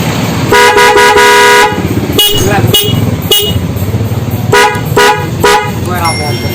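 Loud, blaring Denso horn on a CB150R motorcycle honks, a long sustained blast followed by several shorter toots, close by, with a voice talking in between.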